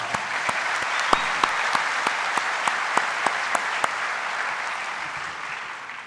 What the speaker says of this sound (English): Let's give all of our top sponsors a really big round of applause.